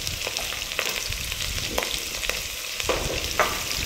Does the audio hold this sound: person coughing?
no